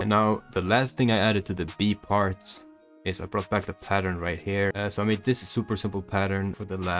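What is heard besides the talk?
None of the usual background noises is heard.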